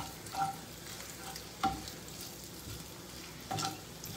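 Bacon frying in a pan, a steady crackling sizzle throughout with a few louder pops and stirring bursts spaced across the clip, no voices.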